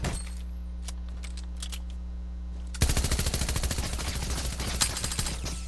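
A new machine pistol fired from the hip in Fortnite, a rapid, close burst of dense automatic shots starting suddenly halfway through over a steady game hum.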